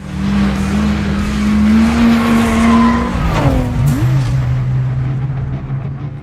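Nissan 240SX race cars in a film street race: a loud, steady engine drone is cut by a brief squealing skid and a swooping rev change midway, then the engines settle back to a lower hum.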